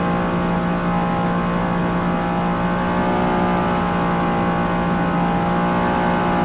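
A '71 Cuda's engine drones steadily at high revs during a NASCAR race at Daytona in Forza Motorsport, a loud continuous whine with strong harmonics and no talk over it.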